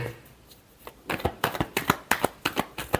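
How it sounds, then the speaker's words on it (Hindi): Tarot cards being shuffled, a soft rustle and then a rapid run of crisp riffling slaps, close and fairly loud. "last shuffle"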